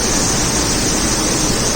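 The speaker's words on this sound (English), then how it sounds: "I really want to record the waterfall" A hidden waterfall in Arunachal Pradesh roars as a loud, steady wash of broadband rushing water, close and continuous with no voices.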